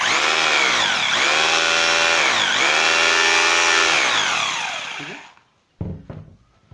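A 2020 hammer drill runs in hammer-only mode with a loud, steady, rapid hammering drone for about five seconds, then winds down and stops, followed by a couple of brief knocks.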